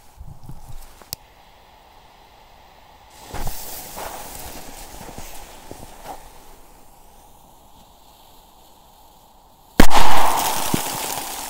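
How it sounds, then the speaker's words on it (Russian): A single sharp firecracker bang bursts out near the end, loud and close, after a stretch of quiet outdoor rustling in snow and a few softer thumps. "Что ж, давайте повзрываем каких-то классных петард."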